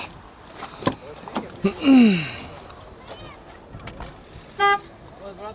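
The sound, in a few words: car horn honking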